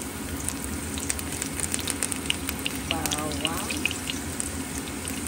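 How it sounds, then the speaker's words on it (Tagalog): Garlic sautéing in a pan as the base of a shrimp green curry gives a continuous close sizzle with small crackles and pops, and a voice speaks briefly over it. "Igisa natin ito."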